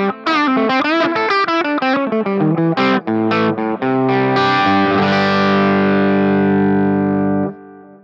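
Eastman Les Paul-style guitar through a Marshall amp, a loud overdriven riff of quick choppy chords and notes that ends on a long ringing sustained chord fading out, with no talking.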